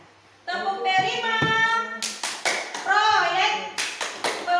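A group, including children, performs the rhythmic 'Tepuk P5' clap chant at a school session, sharp patterned claps alternating with sung or chanted voices in quick, bouncy bursts.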